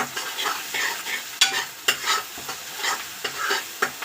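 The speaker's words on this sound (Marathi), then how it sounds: "आपला मस्त असा कांदा लसूण मिरचीचा ठेचा छान असा तेलामध्ये फ्राय होत आहे" Onion, garlic and chili paste frying in oil, giving a constant close sizzle broken by rhythmic scraping strokes of stirring, loud and with no speech.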